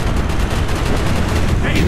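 Rapid automatic gunfire in the video game Call of Duty Black Ops, a loud, dense burst of shots rattling continuously without pause.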